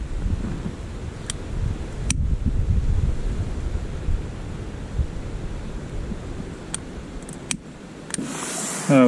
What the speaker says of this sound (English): It's damn windy.